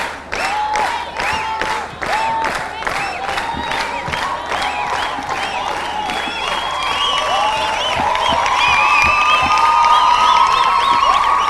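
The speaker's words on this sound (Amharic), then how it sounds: "ለላምሮት እስከ አንድ ጊዜ ሞቅ ያለ ጭብጨባ።" Warm, sustained applause from a crowd for a student quiz competition winner, steady clapping mixed with cheers and children's shouts, building slightly louder toward the end.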